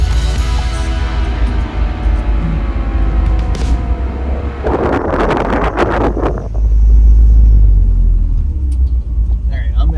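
A car fitted with an A340 automatic transmission rumbles as it pulls away, engine revving up in the middle before settling into a low, loud drone, with wind buffeting on the microphone.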